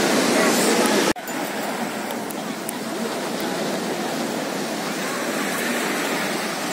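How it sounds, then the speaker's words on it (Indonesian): Ocean waves at Citepus Beach in Pelabuhan Ratu make a dense, steady wash of surf, loud and continuous, with a brief knock near the start. "Ini suasana Pantai Citepus yang berlokasi di Pelabuhan Ratu."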